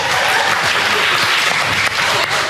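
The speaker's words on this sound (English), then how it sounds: "storms away to a thunderous applause" Thunderous audience applause at a staged social experiment on a TV show, dense steady clapping filling the whole stretch with a little chatter mixed in.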